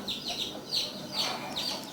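A newly hatching chick struggling out of its shell makes repeated high, thin peeps, several short chirps coming close together and fairly near but quiet, with a soft hiss of background noise and no talking.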